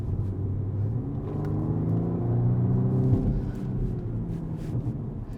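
A 2020 BMW M235i xDrive Gran Coupe engine pushed hard on a track, a steady close rumbling drone rising and holding in pitch through acceleration, with no talk over it.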